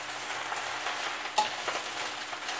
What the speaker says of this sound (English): And I'm just going to keep stirring it so I'm not burning anything.